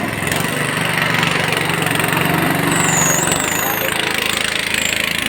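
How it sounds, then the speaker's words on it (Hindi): A sugarcane crushing machine's engine runs loudly and steadily at a cattle market, a constant close rattling drone, with people talking over it. "गन्ने की मशीन है, बहुत तेज़ आवाज़ आ रही है"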